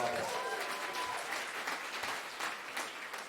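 Applause for a live music performance, a fairly faint, steady patter of many hands clapping that continues throughout, with a brief voice at the start.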